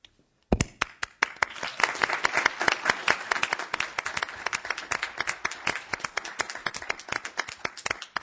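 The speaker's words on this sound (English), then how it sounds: "Thanks for everybody for the applause" Applause from the audience at a college board of trustees meeting, a dense burst of many hands clapping that starts suddenly, carries on steadily for several seconds and then thins to scattered claps near the end.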